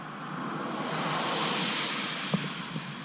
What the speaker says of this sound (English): We have now turned into the wind